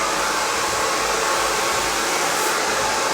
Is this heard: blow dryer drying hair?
yes